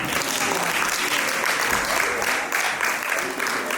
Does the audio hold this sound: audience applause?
yes